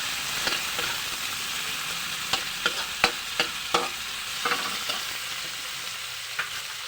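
Onion and tomato sauté in a pan for a mussel soup, a steady close sizzle broken by irregular scraping clicks as the mixture is stirred.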